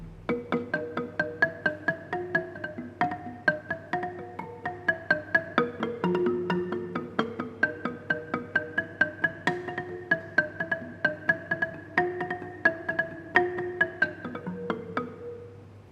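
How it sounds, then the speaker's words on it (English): A gambang, a wooden gamelan xylophone, plays a steady, flowing melody of bright, quick mallet strikes, moderately quiet and continuous throughout. "The Gambang is made of wood, and it sounds like this."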